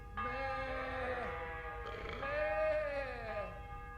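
Sheep bleat in the medieval role-playing game Kingdom Come: Deliverance, with several long, wavering bleats overlapping close by, one near the start and another swelling louder in the second half.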